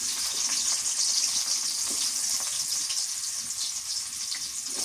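Onion added to hot oil with potatoes fries in a pan, a dense steady hiss of sizzling with faint stirring clicks, no voices.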